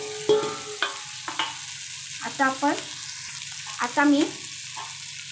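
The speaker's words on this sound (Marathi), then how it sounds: "तेल घालत आहे 2 चमचे" Two spoonfuls of oil hit a tava of chicken fry, bringing a steady low sizzle with a few sharp clinks of utensils as someone speaks briefly over it.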